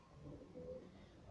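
Homing pigeons on a rooftop give quiet, rolling coos that swell and fade in short phrases, faint and close, with no one speaking.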